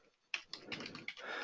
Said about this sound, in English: Just having a bad day with typing.